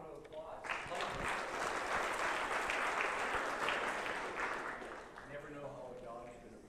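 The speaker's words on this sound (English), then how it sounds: "Let's give her a round of applause." Audience applause after a talk on laminitis in horses, a steady, moderately loud wash of clapping that swells after the first second, holds, then thins near the end, with some voices.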